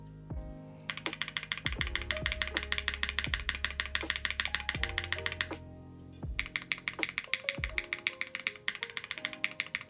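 Rapid, steady typing on a Vega 65 mechanical keyboard with Gateron KS9 switches and an aluminum plate, sharp clacky keystrokes close up and fairly loud, running in two bursts with a brief pause.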